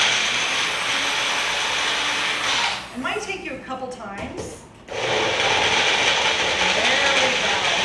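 A kitchen blender whirs while mixing cacao powder with water, its motor noise dropping out in sputtering, uneven bursts midway and then surging back steady and loud, with a person speaking briefly over it.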